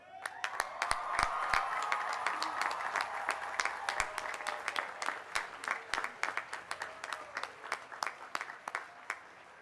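A standing graduation audience at a 2013 college commencement claps in a full round of applause that swells early, then thins into fewer distinct claps toward the end, with a faint crowd murmur beneath.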